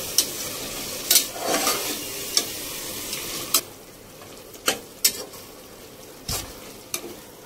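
Vegetables for veg biryani sautéing in a pan, a gentle sizzle with intermittent sharp spoon scrapes and clinks against the pan, close and unaccompanied by speech.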